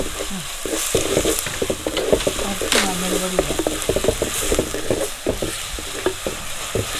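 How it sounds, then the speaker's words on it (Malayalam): Ginger garlic paste is sautéed and stirred in a pan for a Kerala mackerel dish, giving a steady close sizzle broken by repeated scrapes and clinks of a spoon, with no talking. "ഇഞ്ചി വെളുത്തുള്ളി പേസ്റ്റ് ചേർക്കുന്നത് അതും കൂടി ചേർത്തങ്ങൾ വഴറ്റാം നമുക്ക്"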